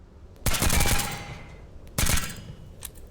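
Suppressed rifle firing on full auto in the Tactical Assault VR game: two short bursts of rapid, crisp shots, each trailing off briefly, with no talking.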